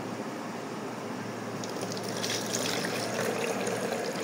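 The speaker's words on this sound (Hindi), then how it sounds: "अब इसके नीचे वाले हिस्से में पानी भर देंगे।" Water runs steadily into the lower part of a bottle planter for a money plant, a continuous close trickling and splashing that holds the same level throughout.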